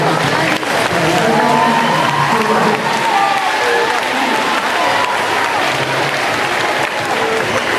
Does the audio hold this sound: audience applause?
yes